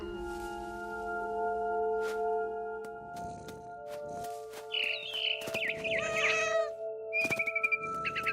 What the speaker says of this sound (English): And suddenly, I was a cat.